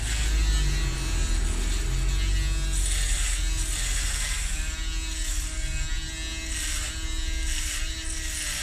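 An electric hair clipper buzzes steadily and close up as it trims a beard down to the skin, a continuous motor hum with slight shifts in pitch as it moves slowly over the face.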